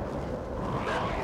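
Dogs bark and yip in the video game Inside. The barking is muffled and continuous over a rumbling background, and a voice talks over it during the short stretch.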